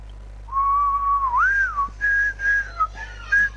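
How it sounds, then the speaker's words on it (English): A person whistling alone, close and clear: a long sliding tone that rises and dips, then a string of shorter held notes with brief gaps, over a low steady hum. "I can whistle"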